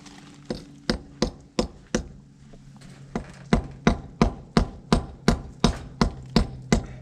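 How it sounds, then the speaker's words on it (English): Sharp, close hammer blows chip raised concrete bits off a building foundation, about twenty hard strikes. A few come spaced out at first, then a quick, steady rhythm sets in. "I'm having to chip all these things off where the concrete forms left little raised areas"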